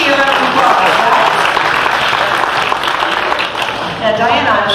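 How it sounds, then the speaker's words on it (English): A theater audience applauds for a volunteer on stage at a live bird-trick show, a dense, loud wash of clapping that fills the whole stretch and dips briefly near the end. "Let's give Diana from Newport Richie a round of applause."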